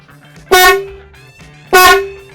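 Two loud, sharp honks from a Hella car horn, about a second apart, each brief and blaring against a quiet background.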